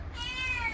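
A cat waiting beside fish being cut lets out one short, clear, mid-pitched meow, close by against quiet background noise.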